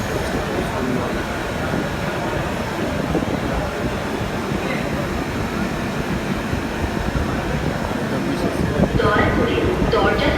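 Dhaka metro rail train in motion, a steady rumbling roar with rail noise continuing throughout, heard from inside the carriage with faint chatter in the background.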